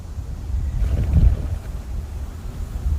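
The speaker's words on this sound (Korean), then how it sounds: "바람이 너무 세게 불어서 대편성 하는데 시간이 조금 더 걸렸습니다" Strong gale-force wind blows at a freshwater crucian carp fishing site, a loud low rumble and buffeting against the microphone that swells and ebbs without speech.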